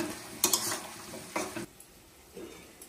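Eggplant pieces go into a simmering green banana curry and are stirred in the pan, giving a few close scraping clatters in the first moments before settling to a quieter bubbling simmer.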